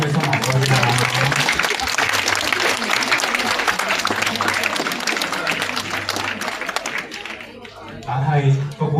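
An audience claps and applauds during a love-story presentation for a couple, a dense rattle of many hands that keeps going under an ongoing speaking voice.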